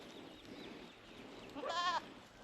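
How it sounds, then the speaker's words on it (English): A single short, wavering bleat from an African Boer goat on a farm, close and clear, standing out above a quiet outdoor background. "The African Boer breed, the best breed of goats."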